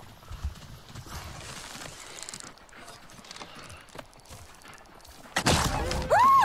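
Hooves of a dire horse in the video game Avatar: Frontiers, a steady clip-clop of footfalls under ambient game sound, followed near the end by a louder burst and a sharp whinny-like cry.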